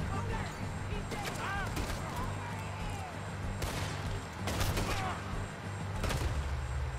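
Gunfire in the video game Red Dead Redemption 2, several sharp shots and bursts cracking through a busy game soundscape, with someone talking over the action.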